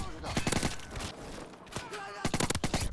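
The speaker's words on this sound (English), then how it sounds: "UMP45, classic two-shot." Rapid bursts of UMP45 submachine gun fire from Call of Duty Modern Warfare 3 Remastered, several quick volleys separated by a brief pause, loud and close with sharp cracks.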